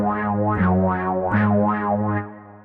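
Synth tone from the StudioLinkedVST Modernize plugin, run through a notch-filter wah effect whose sweep rises and falls about four times over a sustained held note, steady and close with no other sound.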